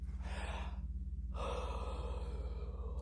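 A person yawns, with a long breathy inhale followed by a brief pause and a softer, drawn-out exhale, close and quiet against a low steady hum.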